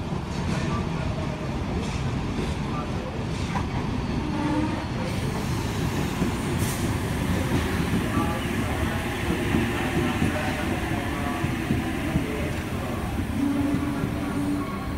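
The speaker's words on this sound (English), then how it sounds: "But a central service approaching platform number 3." Sydney Trains central service pulling into platform 3 at Wolli Creek, a steady loud rumble of wheels and motors filling the station throughout, with faint announcements or voices in the background.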